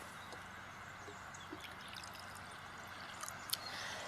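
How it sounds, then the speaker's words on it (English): Water pours into a cup holding a pencil, a faint, steady trickle running for a few seconds with small splashes near the end. "Now let's add some water"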